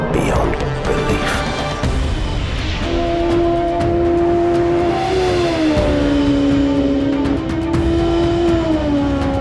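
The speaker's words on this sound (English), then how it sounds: "Introducing the supercharged Ninja H2." The supercharged 2015 Kawasaki Ninja H2 motorcycle engine revs loud and close, its tone climbing and stepping through gears over a thick, roaring mechanical bed.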